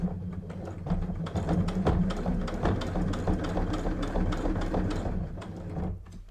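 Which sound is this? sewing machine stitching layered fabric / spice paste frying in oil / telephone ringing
sewing machine stitching layered fabric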